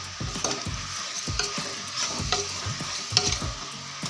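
Chicken pieces with rock salt and turmeric are stirred in a pan, giving repeated close scraping and clinking strokes over a soft sizzle, with no voices.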